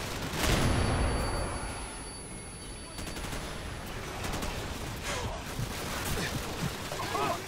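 Tank cannon firing in Call of Duty Modern Warfare, a loud booming blast near the start followed by sustained gunfire and battle noise throughout, heard from close by.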